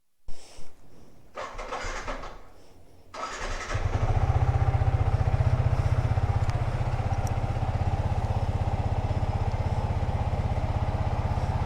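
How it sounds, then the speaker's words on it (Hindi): A motorcycle engine starts after a few short cranking bursts, then settles into a steady, loud, close idle while it warms up outdoors in bright sun on a dusty spot. "बाइक वार्म करनी है"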